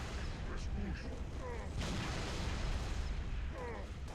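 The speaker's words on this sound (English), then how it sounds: "Grenade!" A grenade goes off in a Halo Reach battle, one sharp booming blast mid-clip surrounded by scattered gunfire and combat clatter, while a player talks over it.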